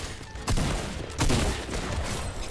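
Rapid bursts of Fortnite gunfire crack out in two loud volleys about a second apart over a busy in-game background, with no talk.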